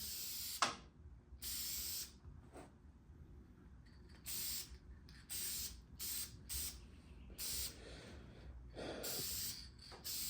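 An aerosol spray can lays a second coat of paint on a small-block Chevy 383 stroker engine block, with repeated close bursts of hissing spray of a second or so each, separated by short pauses.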